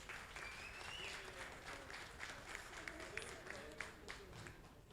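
A crowd applauds the organizers at a gathering of a Brazilian association of independent journalists, with steady, dense clapping running through the whole stretch and a few sharper claps standing out.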